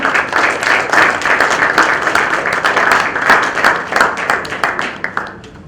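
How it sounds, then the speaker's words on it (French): An audience at a book launch ceremony bursts into a round of applause, dense crowd clapping that stays strong for several seconds before thinning toward the end, with no one speaking over it. "Est-ce que nous pouvons applaudir, s'il vous plaît?"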